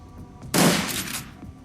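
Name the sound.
minigun firing in the video game Shadowrun: Dragonfall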